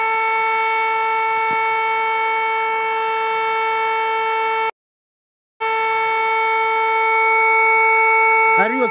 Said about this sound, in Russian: Орет сирена, никого нет.